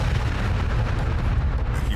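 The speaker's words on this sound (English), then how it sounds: "A humiliating explosion on camera of the American response." Vanguard rocket exploding just off the launch pad, a dense, loud roaring blast with a deep rumbling low end that stays sustained and unbroken, heard alone without voices.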